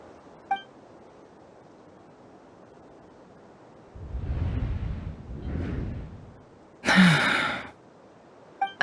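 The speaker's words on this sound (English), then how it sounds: "I heard Yehuda gasp" A character in Genshin Impact gasping: soft breathy exhalations in the middle, followed by a brief sharp burst, with faint electronic beeps at the start and end against a quiet background.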